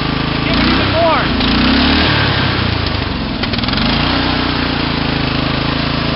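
A racing lawn mower engine roars loudly as the throttle is opened wide, with rising revs and a rough, steady drone, while someone talks over it.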